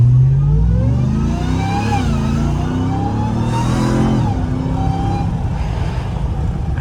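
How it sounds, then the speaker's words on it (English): Ram TRX truck with a Bwoody air intake pulling away from a standstill at quarter throttle, a loud engine note rising through a couple of gear changes, then settling into a steadier drone, with no talk. "you guys can hear it from a low RPM, you know, 0 miles per hour."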